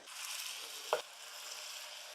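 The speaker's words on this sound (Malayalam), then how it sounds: "അടുത്ത ബാച്ചും കൂടി ഇങ്ങനെ വറുത്തെടുക്കാവേ" Another batch of pakoda fritters fries in hot oil, giving a steady soft sizzle with one short clink of a spoon against the pan, close and uninterrupted.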